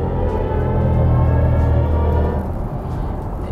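BMW i5 electric sedan's synthetic driving sound in expressive mode, a swelling low tonal drone with layered harmonics over road noise, building and then easing into a rougher rumble, steady and loud.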